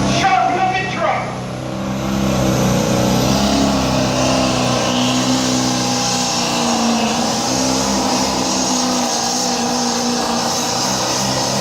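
A Chevy pulling truck's engine roars loudly and steadily at a tractor pull, a sustained high-revving drone from the track while an announcer talks over it.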